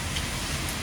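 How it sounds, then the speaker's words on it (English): Steady rain falling on a wet day along the Appalachian Trail, a dense, uniform hiss with no clear individual drops, alone and without talk. "It's still raining, as you can see."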